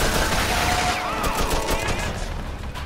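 Gunfire in the Mafia 2 video game, a dense continuous burst of shots and rattling reports filling the whole stretch without a break.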